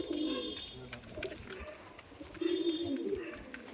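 Old Giribaj pigeons kept at a home loft give low rolling coos in two bursts, near and moderately loud, with faint background voices between them.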